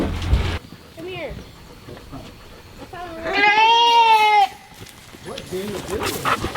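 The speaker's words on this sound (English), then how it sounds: "that's a funny looking goat" A goat bleats once in a long, wavering cry, loud and close, between bursts of nearby chatter, with a few shorter bleats and voices around it.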